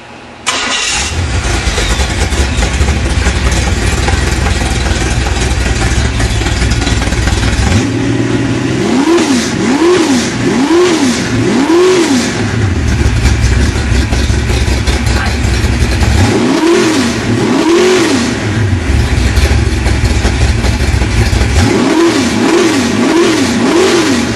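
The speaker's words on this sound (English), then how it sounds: "We're going to give you a little live run demonstration." An Oldsmobile 455 V8 with aluminum heads, an Edelbrock intake and carburetor, making about 450 horsepower, cranks and fires, then idles loudly with a rough lope, broken by three bursts of quick repeated throttle blips that climb and fall.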